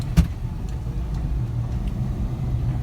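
A Suzuki Carry turbo mini truck drives along with a steady low engine rumble and road noise from inside the cab, and a short thump near the start.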